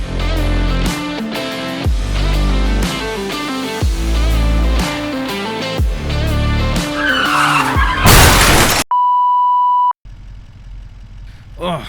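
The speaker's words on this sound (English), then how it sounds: "We just crashed off the side of the road." Farming Simulator 25 logging truck towing a log trailer crashes off the side of the road, loud engine and skidding tire squeal building into a harsh crash burst, followed by an in-game alert beep and quieter vehicle noise.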